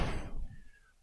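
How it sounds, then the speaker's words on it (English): A G-body car door shuts with a single solid thunk, followed by a brief fading rattle and a faint lingering tone. "The door closes,"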